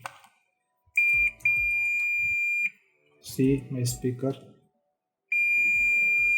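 A multimeter set to its continuity buzzer range emits a loud, steady electronic tone through a Sony HT-IV300 speaker in three long stretches, with someone talking briefly in the gap between them.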